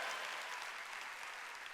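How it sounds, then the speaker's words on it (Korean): Congregation applauding during a Sunday worship service at a church, a steady wash of many hands clapping at moderate, slightly distant volume with no voices over it. "빨리 박수 치라고요."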